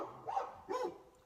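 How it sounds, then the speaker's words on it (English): Two short barks from a dog in the distance, spaced about a second apart and moderately faint, with nothing else going on. "barking dogs"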